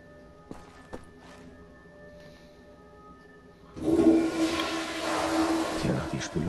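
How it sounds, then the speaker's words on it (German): A toilet flushes in the video game Wolfenstein: The New Order: after a few seconds of quiet ambience, a loud rushing surge of water starts and keeps churning to the end. "die Spülung geht jedenfalls noch"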